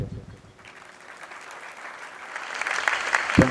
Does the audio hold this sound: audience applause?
yes